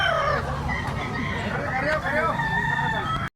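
A spangle white stag rooster at a gamefowl market in Tabunok, Cebu, with loud overlapping crowing and clucking from fowl close by, while people talk in the background.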